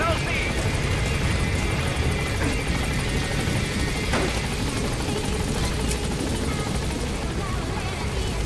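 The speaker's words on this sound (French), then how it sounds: "Donc j'appelle l'hélico" A helicopter arriving in Metal Gear Solid V gives a steady, loud rotor drone and engine buzz throughout, with someone speaking over it.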